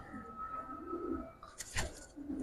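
A high-flyer pigeon gives a soft, low coo close by, followed by a brief rustle or flutter.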